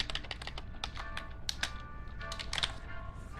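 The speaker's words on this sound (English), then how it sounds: "you had to sit here and watch me type one of these messages" Quick bursts of keystrokes on a computer keyboard as a message is typed, irregular clicky taps with brief pauses, close and fairly quiet over faint background hum.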